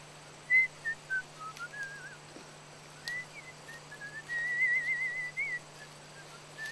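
A person whistles a wavering, meandering tune while hand picking hops, the whistle faint and intermittent over a quiet background hum.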